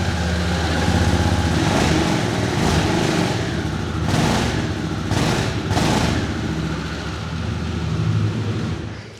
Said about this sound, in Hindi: तो ये मोटरसाइकिल की हमारी आवाज़ थी।